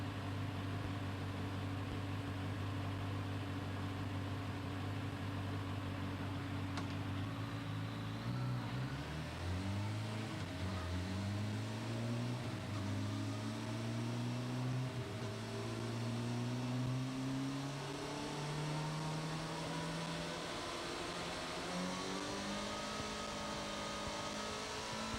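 A Superflow CycleDyn dynamometer runs a controlled acceleration test from 60 to 120 mph in 15 seconds: a steady engine hum gives way to rising tones as the revs climb smoothly and continuously, loud and alone.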